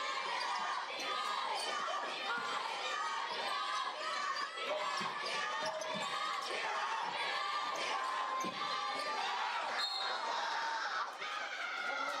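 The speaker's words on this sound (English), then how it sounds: "Crowd's being loud." A loud, steady roar from a homecoming basketball crowd at a high school game between Boise City and Turpin fills the gym. Cheering and chatter continue without a break, with a few sharper shouts and shoe squeaks rising above the din.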